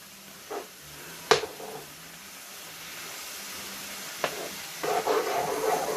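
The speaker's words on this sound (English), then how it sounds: "I'm going to stir it in" Garlic being stirred into chilli in a cooking pan, a soft sizzling hiss under a few sharp scrapes and clinks of a utensil against the pan, with the frying growing a little busier toward the end.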